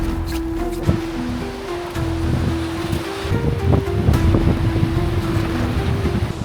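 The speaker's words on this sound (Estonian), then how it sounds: "Maksimaalne torm ikka." Storm wind blows hard along a seashore on a winter night, a continuous rushing roar with surging gusts and a low rumbling undertone, close to the microphone, with no one speaking.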